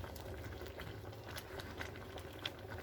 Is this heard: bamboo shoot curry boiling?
yes